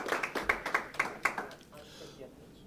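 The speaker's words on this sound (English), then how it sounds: "If everybody could give Garland a round of applause." A small audience gives a few sparse, distinct claps in an uneven rhythm over about a second and a half, then the clapping dies away into quiet room sound.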